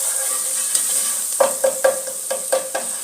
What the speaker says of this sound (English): And I'll just saute the onions.